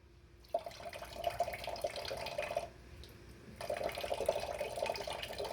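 Water pours into a container for DIY gelatine special effects mixed with glycerin, a close steady splashing stream in two bursts separated by a short pause.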